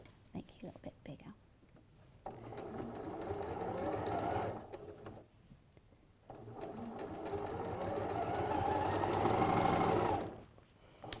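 A domestic sewing machine stitches a 1/4-inch seam on a pleated rainbow cushion, running in two long steady whirring bursts separated by pauses, with soft talking in the gaps between runs.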